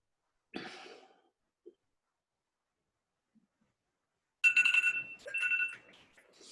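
A short electronic alarm tone beeps in a couple of bursts after a quiet stretch, preceded by a faint breath or cough.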